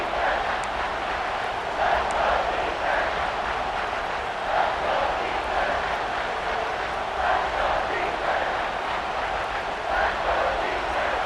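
Home crowd in EA Sports College Football 26 roars steadily as the defense faces third down, a dense, continuous wash of cheering with swelling surges, loud and sustained throughout.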